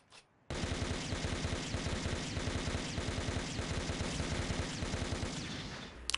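A rapid burst of machine gun fire in the SD Gundam Online video game, with dense evenly spaced shots that run steadily for several seconds after a short quiet start.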